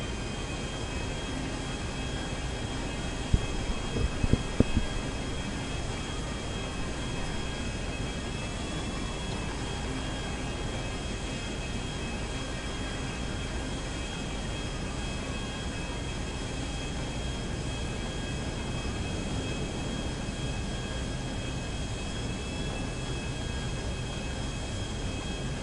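Stolen airplane engine droning steadily in GTA V story mode, a continuous broadband roar that holds for the whole stretch with a few brief knocks near the start, no talk.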